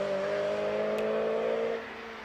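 A 2010 Mazda MX-5 racing at the Prescott hill climb, its engine holding a steady, moderately loud drone that passes and fades slightly near the end.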